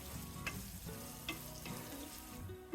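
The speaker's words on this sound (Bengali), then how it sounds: "এক মিনিটের মতো আমি গাজরগুলোকে ভেজে নেব গাজর কুচি" Chopped carrots fry in a pan for egg chowmein, a steady close sizzle with a few sharp scrapes and clinks of a utensil stirring through them.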